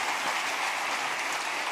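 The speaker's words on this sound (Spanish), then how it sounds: "Denle un aplauso al Rey bendito." A church congregation applauds during a Wednesday service, a dense, steady wash of clapping filling the room without pause, no voices standing out.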